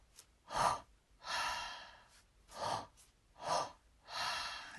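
Deep breathwork, a run of five loud close breaths: sharp in-breaths alternating with long drawn-out exhales in a slow steady rhythm, no talking.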